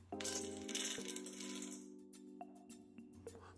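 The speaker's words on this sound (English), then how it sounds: "Pour the almonds into the salad bowl." Almonds poured into a salad bowl, a dense close rattle of many small hard nuts clattering against the bowl, then thinning to scattered clicks.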